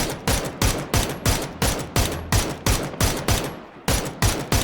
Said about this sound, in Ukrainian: Хто десь стріляє тут на сині.